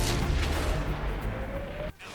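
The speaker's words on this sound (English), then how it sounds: "The whole enemy team is facing these guys and pummeling them with shots." Tank cannon fire in the console game World of Tanks, as an enemy team pummels a tank with shots, rolls as dense continuous booming and rumble with no clear separate blasts, loud throughout before a sudden drop near the end.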